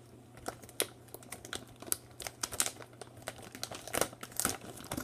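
Scissors snipping and plastic packaging crinkling as a squishy toy parcel is cut open, close, quiet irregular crackles and taps with no talking.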